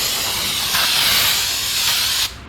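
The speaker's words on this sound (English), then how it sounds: "Clean it up, I'm just going to use some brake cleaner" Brake cleaner sprays from an aerosol can onto a rear differential cover on a 2nd gen Dodge Ram, two steady loud hissing bursts running back to back, then cutting off abruptly near the end.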